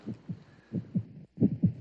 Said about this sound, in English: That sound you hear is a heartbeat